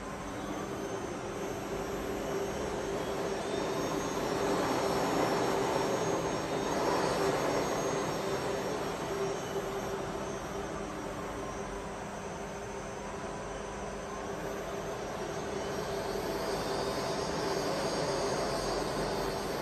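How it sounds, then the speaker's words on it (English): Electric motor of a 15-ton electric truck with a 4-gear AMT runs during system testing, a steady loud whine and broadband rushing hum lasting throughout with a faint high tone, no talking. "We can see the motor is running on the other direction."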